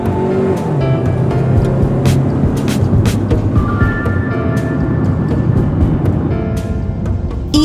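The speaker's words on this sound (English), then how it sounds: "due to this abrupt steering maneuver, the vehicle starts to skid" A car skids after an abrupt swerve in a Bosch ESP demonstration, producing loud continuous road and engine noise with tire screeches rising through the middle.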